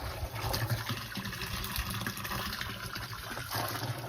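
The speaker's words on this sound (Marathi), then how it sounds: "हे जे पाणी आहे ना ते बोरचं या आणि आपण अर्धा होईपर्यंत भरून घेऊ बॅलर" Steady gushing water pouring into a container from a borewell pump pipe on a farm, continuous and fairly close, with a faint hum underneath.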